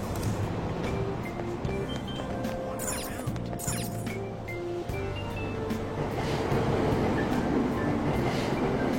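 A Tokyo subway train pulls out of Aoyama-itchome station on a line serving Asakusa, a steady close rumble of wheels with whining motor tones rising and falling throughout, no voices.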